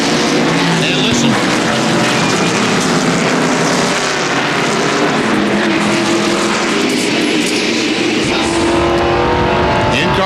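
NASCAR stock car engines roar loudly and continuously at the North Wilkesboro race, a dense, steady wall of engine noise filling the whole stretch with no pauses.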